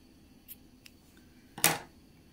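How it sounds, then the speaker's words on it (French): Scissors snip through blue yarn during a crochet project: one crisp, close cut rings out alone after a couple of faint soft clicks. "Et couper donc le bleu."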